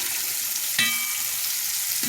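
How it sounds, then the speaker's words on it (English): A continuous bright sizzle of pink salmon frying in a hot pan, steady throughout with a faint clink partway through. "So here it goes. It's frying."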